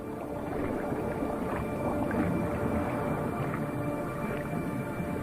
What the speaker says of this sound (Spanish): La ballena azul entona su canto, un sonido grave que viaja cientos de millas a través de las profundidades del océano.